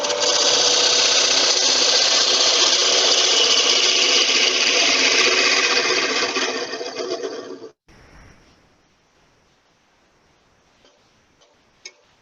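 A loud, steady broadband roar of a wood lathe turning a wooden box, running for several seconds before cutting off abruptly, followed by near silence with a few faint ticks.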